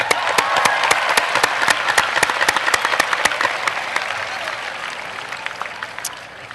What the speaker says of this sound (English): How about a nice round of applause for the weather?